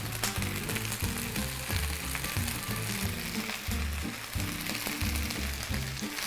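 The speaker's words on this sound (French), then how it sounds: "Une fois que l'huile est chaude, on peut mettre nos oignons." Onions fry generously in hot oil, a loud, steady crackling sizzle close up, with a low rhythmic pulse underneath and no talk.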